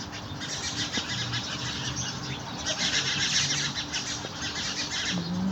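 Birds chirp and twitter continuously in the background, with a few louder calls and faint rustling, and nobody speaks.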